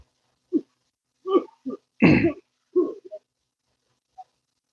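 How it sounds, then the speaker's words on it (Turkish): A person coughs in a short run of harsh, separate bursts. The loudest one comes in the middle and a faint last cough trails off near the end, with silence in between. "O nasıl bir öksürmek?"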